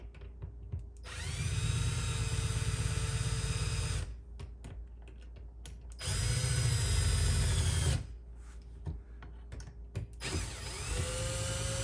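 A power drill whirs in three sustained bursts of about two to three seconds each, driving screws into a wall, with quieter mechanical handling and clicks between them.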